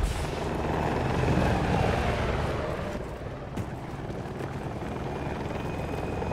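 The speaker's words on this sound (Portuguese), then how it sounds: "Ah, veio helicóptero, por isso." Steady, loud rotor thump and engine roar of a helicopter in the video game Battlefield 2042, continuous throughout with a slight dip midway, no talking.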